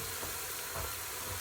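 Chopped garlic fries in a pan of cooking greens, giving a steady, close sizzle with soft crackles and faint stirring throughout, no voices.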